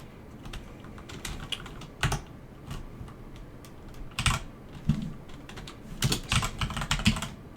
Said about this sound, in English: I can't even type today.